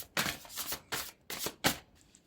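A deck of tarot cards is shuffled and drawn in four quick riffling bursts, soft and close, separated by short pauses.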